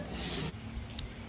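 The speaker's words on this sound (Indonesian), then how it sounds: "Atau kalau saya menggunakan kertas gosok yang sangat kasar sekali." A hand-launch glider wing is sanded with very coarse sandpaper in a short, close, harsh rasping stroke, followed by quieter scraping and a faint tap.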